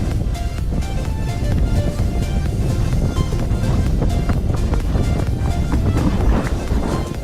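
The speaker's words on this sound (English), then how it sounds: "My bad if it's like mad windy, but we're kind of on like an island right now" Strong wind buffets the microphone on an exposed sandbar off Hilton Head Island, South Carolina, a loud, steady roar with gusty low rumble lasting throughout, no voices.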